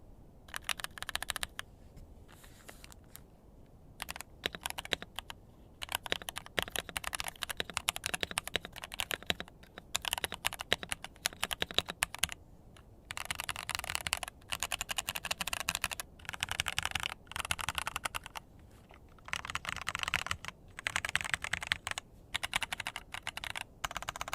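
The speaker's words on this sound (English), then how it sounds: "So let's give this a sound test now." Typing on a Keychron V1 mechanical keyboard fitted with cherry profile keycaps, a close, crisp clatter of keystrokes in fast bursts separated by short pauses, with no voices.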